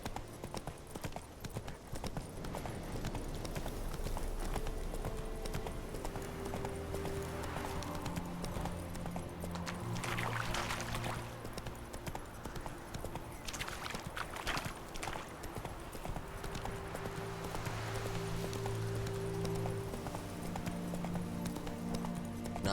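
Roach, Geralt's horse in The Witcher 3, trots with steady clip-clop hoofbeats throughout, joined by game music and ambience and a brief whinny, with occasional talk over the top.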